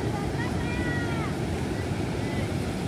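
Water discharges through the open gates of Jayakwadi dam (Nathsagar), heard from close by as a loud, unbroken broadband roar with a few faint high whistling tones above it.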